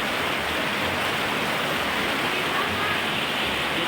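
Steady, dense hiss of rain falling, continuous and even from start to finish, with no voices.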